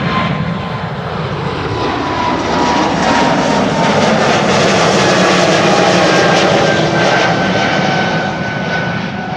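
A jet airliner departs from the Polderbaan runway 36L at Amsterdam Schiphol on a windy day, its engine roar loud and continuous, swelling slightly before holding steady throughout.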